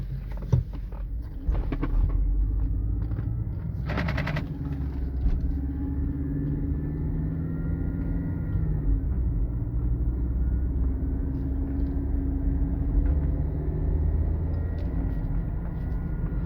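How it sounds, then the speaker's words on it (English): A Mercedes-Benz AMG car cruises around the block, a steady low engine and road rumble heard from inside the cabin, even and continuous, with a few brief rattles near the start and no talking. "I'm just going to take you guys for a quick spin around the block, just to show you how it drives"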